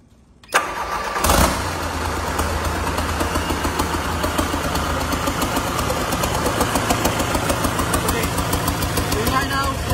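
An Isuzu 4HK1 diesel engine cranks and catches about half a second in, then settles into a loud, steady, close-up idle with an even chugging rhythm that runs to the end.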